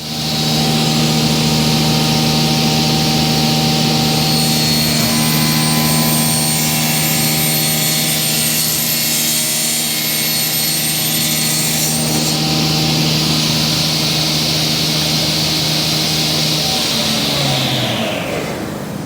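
A powered saw cuts a curve in timber for a modern wooden bookcase, a loud, continuous whining drone with a steady motor hum that runs the whole time and then spins down at the end.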